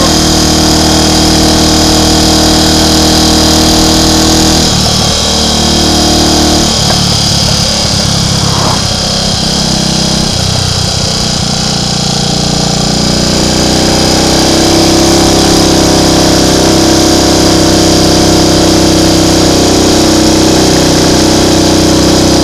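A loud Triumph Tiger Cub motorcycle engine runs close by with a steady, buzzing drone. Its pitch dips and surges briefly in the middle, then settles back to a constant roar.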